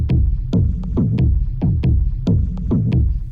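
A kick drum loop built from Syncussion SY-1 samples thumps in a steady repeating pattern, punchy low booms with short clicky transients and a lighter accent between main hits, close and dry with no talk.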